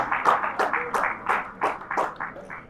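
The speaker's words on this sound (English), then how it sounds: "A round of applause for them once again. Come on, jam those hands together for them." Audience at a tech community livestream panel claps for the panelists, a steady run of sharp, evenly spaced claps that keeps going for a few seconds at moderate loudness.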